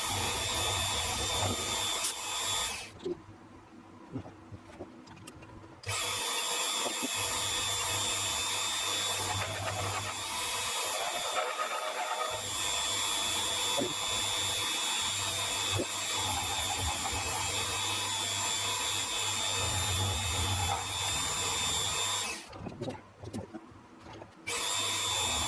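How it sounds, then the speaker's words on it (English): A milling machine cutting a shallow half-millimetre groove across a metal tool blank gives a steady, loud motor whine with a hum beneath, broken by two brief pauses where the cutting stops before the drone resumes. "I'm just going to mill a 1/2 millimetre deep groove across here"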